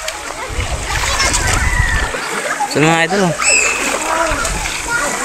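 Many people splash and bathe in the water at a busy resort pool, a continuous watery sloshing and splattering close by, with children's voices and someone talking over it.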